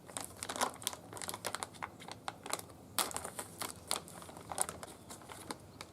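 Plastic packaging wrapped around a Magnuson supercharger part for a 2ZZ-powered MR2 Spyder is torn open up close, giving irregular crinkling and crackling bursts with sharp snaps.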